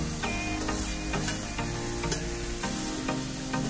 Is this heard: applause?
no